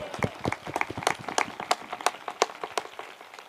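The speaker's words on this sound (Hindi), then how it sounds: "ताली बजा के प्रसन्न परमेश्वर का धन्यवाद।" A church congregation at a Bible convention claps hands in a quick, steady rhythm, a run of crisp claps at moderate volume with no talk over them.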